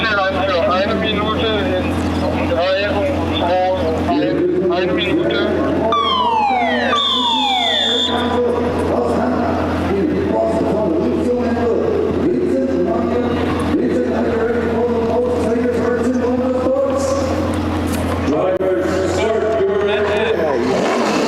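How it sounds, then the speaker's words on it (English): NASCAR Euro Series race car engines firing and revving on the starting grid at the NASCAR GP Germany 2025, a loud continuous roar with rising and falling revs under constant live commentary. "Let's go down to the grid to hear the engines fire."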